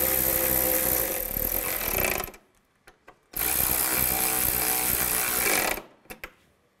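Tail light screws on a Nissan Xterra driven in by a power driver, two loud close whirring bursts of a few seconds each, separated by brief clicks and handling sounds.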